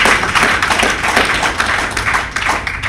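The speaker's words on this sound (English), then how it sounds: "Applause for all of you." A roomful of people at a 2019 reunion of the 1969 class of Campion School claps loudly and close by, a dense, uneven patter of hands.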